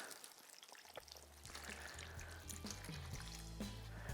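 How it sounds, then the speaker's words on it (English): Water poured from a container over fish in a dish, a continuous trickling splash with a few drips and clinks, close and fairly quiet. "So just pour it on."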